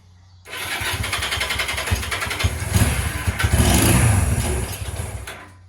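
A Honda CB175 motorcycle engine cranks and catches, then runs with a loud, close, uneven throb for several seconds before cutting off. No one speaks.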